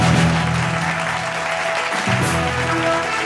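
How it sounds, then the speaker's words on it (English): An awards ceremony audience applauds a winner with a steady, loud wash of clapping that fills the hall throughout, and a low hum of sound reinforcement sits beneath it. "Big round of applause, ladies and gentlemen."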